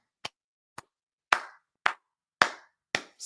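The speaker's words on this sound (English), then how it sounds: "Slow clap for that." Six sharp hand claps spaced slowly about half a second or more apart, each crisp and isolated against silence, with no voices.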